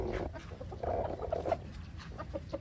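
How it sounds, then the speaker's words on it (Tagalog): Darag chickens cluck softly and repeatedly at close range on a small farm, with short overlapping calls from the hens over a low background murmur. "Ayan, may mga darag chicken tayo."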